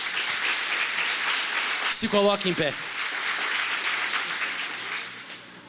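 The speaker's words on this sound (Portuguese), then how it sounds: "Pode aplaudir Jesus." A church congregation claps steadily for Jesus while a preacher's voice briefly speaks over the applause, which gradually fades toward the end.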